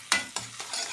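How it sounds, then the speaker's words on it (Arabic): Garlic mashed with onion in a frying pan gives three quick scraping strokes over a soft sizzle, close and fairly quiet. "ههرسها بقى مع البصل كده عشان تحمر"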